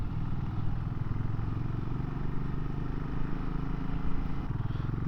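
A warming-up motorcycle engine runs steadily at a raised idle, a continuous low throbbing rumble close by with slight fluctuations in pitch.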